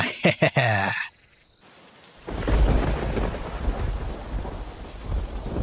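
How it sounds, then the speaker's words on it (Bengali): Cartoon thunderstorm with rain: a short burst of animated voices gives way to a brief hush, then a deep rumbling thunder roll swells into a steady, loud wash of rain that continues to the end. "এই যা, বৃষ্টি যে চলে আসছে"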